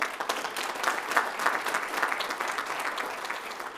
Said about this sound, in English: So a round of applause for these three.